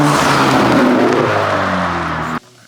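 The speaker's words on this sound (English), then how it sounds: "it is probably one of the best 4-cylinder sounds you can get" A four-cylinder 11th-gen Honda Civic Si with a catback exhaust revs hard and loud for a couple of seconds, the engine note climbing and then cutting off abruptly.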